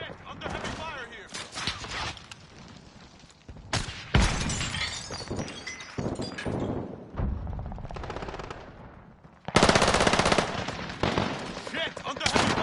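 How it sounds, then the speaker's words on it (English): Heavy gunfire in the video game Call of Duty Warzone, with loud, dense bursts of automatic fire and crashing impacts that come in waves, under game voice callouts. "Under heavy fire here."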